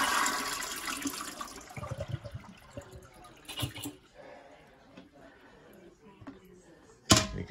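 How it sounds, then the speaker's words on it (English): A travel trailer toilet flushes with a rush and gurgle of water, faint and somewhat distant, followed by quieter trickling and a sharp knock near the end. "We're just going to flush it once and get whatever water is in the back here"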